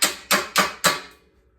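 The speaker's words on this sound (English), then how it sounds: "So I take a little chipping hammer I made on a planer bit," A small homemade chipping hammer, made from a planer bit, strikes steel four times at an even pace to knock plasma-cutter slag off stock for Damascus, each hit a sharp close crack with a brief ring.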